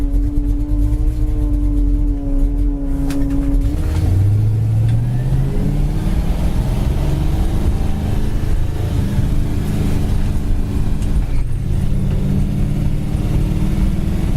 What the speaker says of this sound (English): Car runs and drives great down the road.